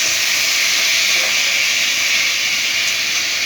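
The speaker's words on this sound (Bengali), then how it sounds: "চিকেনটা ভালো করে ভেজে নেবো" Chicken frying over a high flame in a pan for chilli chicken, a steady loud hiss of sizzling oil that holds unbroken throughout, close and alone.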